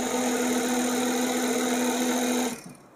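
Overlock sewing machine stitching through fabric, running at high speed with a steady, whining motor hum and rapid needle buzz for about two and a half seconds before abruptly stopping and winding down.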